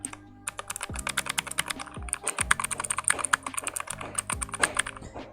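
Rapid, steady clacking of keys on a cheap $20 mechanical keyboard, close and crisp, with a bright burst of keystrokes and a few heavier thumps as the spacebar or larger keys bottom out.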